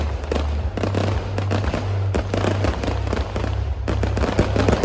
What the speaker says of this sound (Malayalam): എന്തായാലും വെടിക്കെട്ട് ഉയർന്നായിരുന്നു.